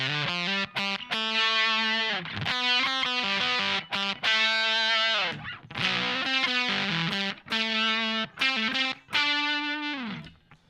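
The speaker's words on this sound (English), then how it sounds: "So the first fuzz pedal in the chain is the Fuzz." Electric guitar through a germanium fuzz pedal, warm saturated notes and chords played in short phrases with brief gaps between, loud and close with sustained fuzzy tails.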